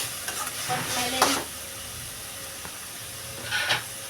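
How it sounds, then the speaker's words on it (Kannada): Oil crackles and hisses steadily in a pan as spices are tempered, with a couple of louder sputtering bursts and a faint scrape of stirring. "ಈಗ ನೋಡ್ರಿ ನಾನು ಅದನ್ನು ಎಲ್ಲ ಒಗ್ಗರಣೆ ಕೊಟ್ಟೆ"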